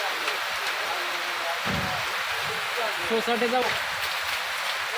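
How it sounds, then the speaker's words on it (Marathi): Heavy rain with small hailstones pouring down during a storm in Adarki, a steady dense hiss throughout, with voices talking over it. "आदर्कीमध्ये मुसळधार पावसाला सुरुवात. लहान लहान गारा पडत आहेत."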